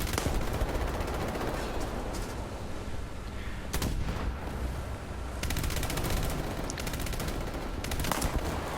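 Tank battle gunfire in War Thunder, set in the Alps, comes as dense, loud bursts of rapid shots and booming impacts, with a sharp blast around the middle and sustained firing through the closing seconds.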